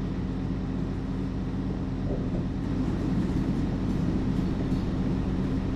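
Train rolling over old tracks in Train Simulator Classic, a steady low rumble with faint periodic clatter that swells slightly midway, constant and fairly close with no voices.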